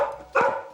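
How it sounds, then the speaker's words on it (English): A dog barking indoors as someone tampers with a car outside, a single short loud bark, close by. "he's barking because there's somebody fiddling with your car"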